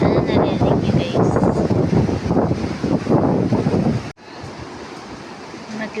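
Small ocean waves break on a windy beach, a steady close surf wash under wind rumble that drops abruptly to a quieter wash near the end.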